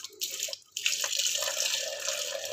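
Milk pours from a height into a clay pot for setting yogurt, a steady close splashing stream that breaks off for a moment and then resumes, with no talking.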